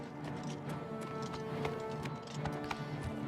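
Horse galloping in an Elder Scrolls game, ridden by an Imperial Legion soldier, with a steady quick clip-clop of hooves at moderate distance over faint background ambience.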